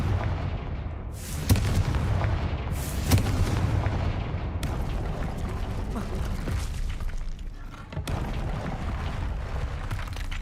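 Confringo blasting spell in the video game Hogwarts Legacy, a string of heavy booming explosions with sharp bursts near the start and a rumbling tail, some faint voice under the blasts.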